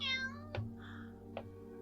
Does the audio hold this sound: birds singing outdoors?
no